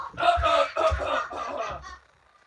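Chickens clucking and squawking close by in a continuous, busy burst for about two seconds, then falling quiet; no talk over it.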